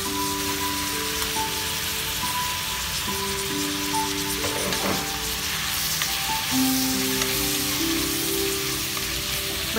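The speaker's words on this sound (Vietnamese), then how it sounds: "Mình xào cho kim chi thấm dầu luôn." Kimchi and meat sizzling and crackling in hot oil in a pan while being stir-fried for a Korean dish, a steady dense hiss with occasional stirring scrapes, close and alone without talk.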